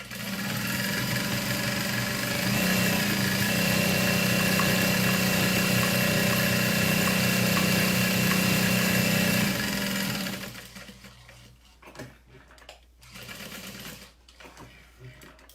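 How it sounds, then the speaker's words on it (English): Sewing machine running fast and steady along the edge of a saddle bag for about ten seconds, loud and close, then stopping, followed by quieter handling noises. "I'm gonna just sew really fast along the other edge"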